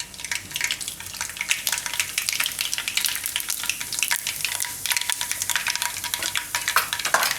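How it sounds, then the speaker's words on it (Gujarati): Mustard seeds and cumin sizzle in a small amount of hot oil, giving a bright, crackling spatter with rapid popping, close and continuous, rising and falling in busy bursts without any talk. "તેલ આપણું ગરમ થઈ ગયું છે, એમાં નાખશું થોડીક રાઈ"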